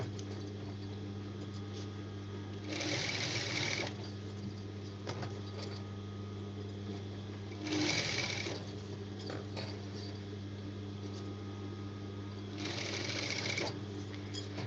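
Sewing machine stitching a body pavadai (a Tamil petticoat), three separate bursts of rapid mechanical whirring each lasting about a second, set apart by quiet pauses over a steady low hum.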